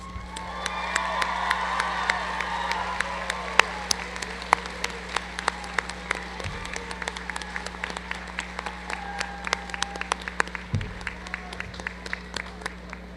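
Graduation audience at a Roane State Community College allied health commencement applauds steadily for the faculty, a dense wash of many hands clapping with a few louder claps standing out, sustained at moderate volume throughout.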